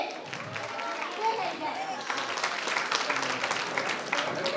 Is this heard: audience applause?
yes